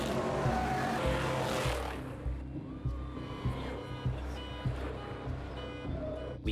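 Trophy truck engines roar loudly and close at first, then fade into a more distant rumble with intermittent revving and bursts of outdoor noise.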